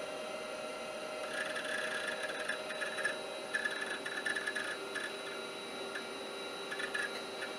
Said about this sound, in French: Il détecte un disque dur et il devrait démarrer dessus sous peu.